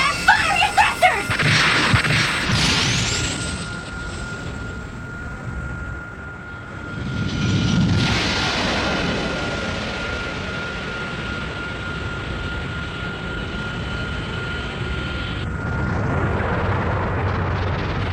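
Anime spacecraft thrusters fire with a loud whooshing, rumbling roar that swells in bursts over a sustained high whine, full of explosive sci-fi effects.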